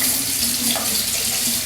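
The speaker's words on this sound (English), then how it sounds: "So first thing I want to do is to actually rinse the product first to make sure it's clean." Tap water runs steadily from a faucet into a sink to rinse a Mastermedi tongue scraper, a continuous close hiss with no talking.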